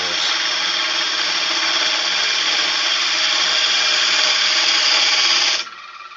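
Wood lathe turning a dragon claw goblet held in a small chuck, a loud steady whirring hiss of cutting that runs evenly for several seconds, then drops off abruptly to a quieter hum.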